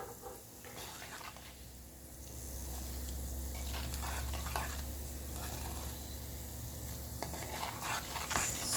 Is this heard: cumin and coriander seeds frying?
yes